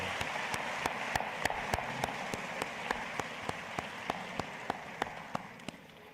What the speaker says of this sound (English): Let's please thank them with a round of applause.